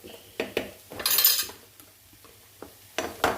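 A utensil scrapes and clinks against a pan as chicken samosa filling is stirred, giving a few close, irregular metallic knocks with quiet gaps between them.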